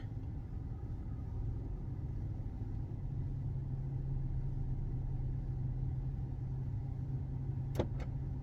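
A short pair of sharp clicks as the driver's door lock releases, triggered by a scan tool command, late in the clip, over a constant low idling engine drone.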